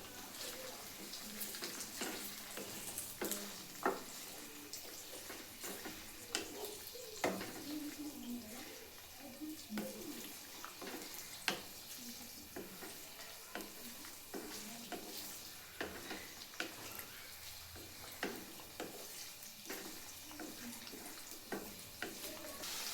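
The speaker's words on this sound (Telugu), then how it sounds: "దీన్ని ఒక 5 minutes అయితే వేయించుకోవాలి." Chicken pieces fry in hot oil for chicken pickle, a steady close sizzle running throughout with scattered clicks and scraping stirs.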